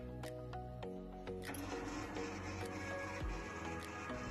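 A sequential dishwasher starts its wash cycle with a few sharp clicks, then a steady mechanical whir with spraying noise and a thin high whine. The machine sounds fairly close.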